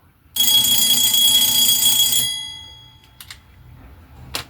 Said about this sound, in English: we try to call the elevator to either floor, the bell rings